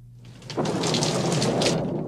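A rain-and-thunder sound effect from a 1976 Cafe Vienna coffee commercial: a deep rolling thunder rumble swells in over a steady wash of falling rain, loud and close, with no voices.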